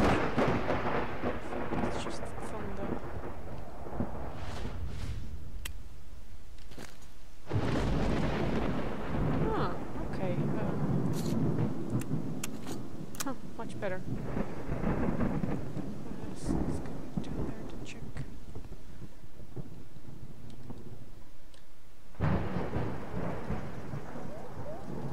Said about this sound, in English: Is that thunder or a blowout up there?